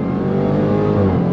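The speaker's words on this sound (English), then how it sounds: "Supercharger whine." A Dodge Challenger Super Stock with a supercharger accelerates hard, producing a loud, close, continuous engine roar with layered harmonic tones that rise steadily through the burst.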